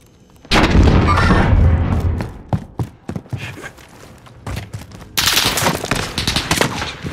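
Rapid video game gunfire in a battle royale match: dense bursts of automatic shots, loud and close, then scattered single shots and a renewed sustained volley near the end, with no talk.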